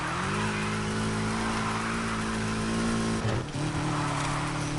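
Loud, steady car engine drone from a racing video game held at high revs through a drift, with a brief dip and re-catch of the revs near the end; no talking.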